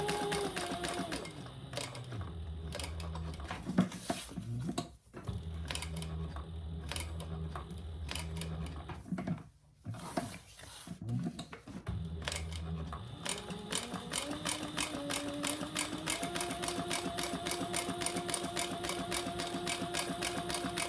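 Sewing around a box shape on fabric to make a zipper pocket, a sewing machine runs in long stretches of fast rhythmic clatter and hum, pausing briefly a few times before starting up again, close and steady.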